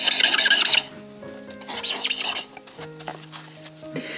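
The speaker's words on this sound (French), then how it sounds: "Je vais donc enlever cette épaisseur-là." Floral foam block being trimmed to shape with a blade, close scraping and crumbly cutting strokes in short bursts, with faint background hum and no speech.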